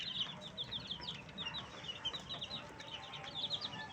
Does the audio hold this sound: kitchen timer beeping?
no